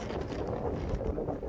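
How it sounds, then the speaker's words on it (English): Steady wind buffeting the microphone on a coast, a continuous low rumble with gusty swells, fairly loud and alone with no talking. "It's windy, but it's not that bad."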